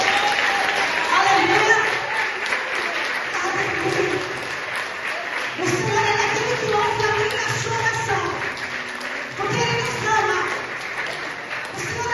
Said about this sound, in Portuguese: Você pode aplaudir a esse Jesus maravilhoso?